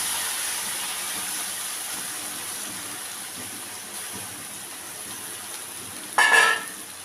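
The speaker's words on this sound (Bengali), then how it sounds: "যে শুটকি মাছটা ভেজে মেখে রেখেছিলাম, মাছটা এখন আমি এটার মধ্যে দিয়ে দেবো" Fried lote shutki dried fish goes into a pan of hot oil in a Comilla-style young jackfruit dish, giving a steady, even sizzling hiss with a brief louder burst of spitting near the end and no talking.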